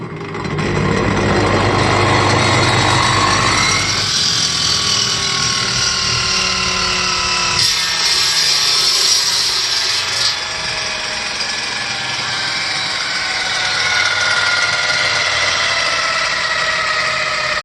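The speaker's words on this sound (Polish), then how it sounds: "Zobaczcie, tutaj sobie skonstruowałem taką piłę do szlifierki kątowej." An angle grinder mounted inside a homemade table saw, built for cutting silicate blocks, runs with a loud sustained whine and buzzing drone whose pitch shifts after a few seconds and then holds, alone without talk.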